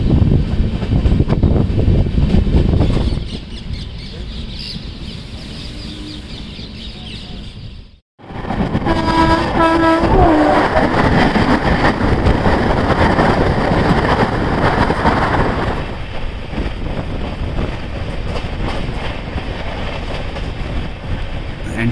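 Azimabad Express passenger train on Indian Railways near Ramganj Mandi Junction, a steady loud rumble and rattle of wheels and carriages heard from on board, with a brief drop and returning clatter, wind noise and faint birds.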